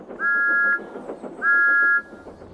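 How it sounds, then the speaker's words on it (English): Two short, steady steam locomotive whistle toots in the countryside, close and clear, separated by a brief pause with low rumbling underneath. "Thomas's whistle sounds like this in the countryside."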